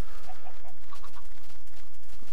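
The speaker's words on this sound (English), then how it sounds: "little chickens. Don't fall in the hole." Little chickens cluck in a video game, a few short clucks in the first second and a half over steady background game noise, fairly faint.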